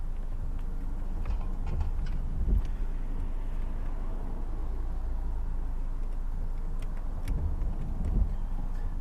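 A car pulls away on a UK driving test route, its engine and tyres giving a steady low rumble with faint wind noise and a few soft knocks, no talking.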